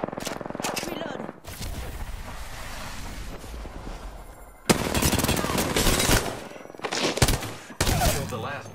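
Gunfire in the battle-royale shooter Apex Legends: bursts of rapid weapon shots and sharp impacts, loud and close, coming in several separate volleys with short gaps between them.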